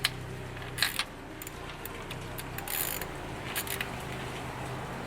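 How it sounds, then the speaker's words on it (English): Ratchet tightening a 10mm bolt on a Toyota MR2 Spyder 2ZZ-GTE turbo engine, a few quiet clicking bursts scattered over a low steady hum, faint and close. "take our 10mm, tighten it up"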